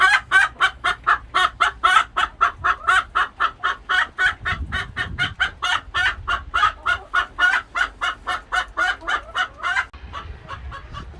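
Backyard allotment hen clucking in annoyance after her eggs are collected, a loud, close, rapid string of sharp repeated clucks continuing steadily for several seconds.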